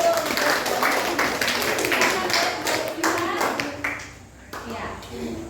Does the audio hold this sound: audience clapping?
yes